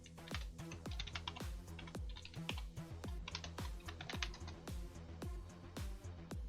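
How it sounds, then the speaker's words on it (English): Close, dry keystrokes clatter on a computer keyboard in quick uneven runs, with sharp individual clicks and no talking. "Now let's see if I can type this correctly"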